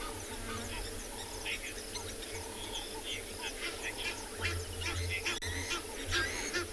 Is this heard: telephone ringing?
no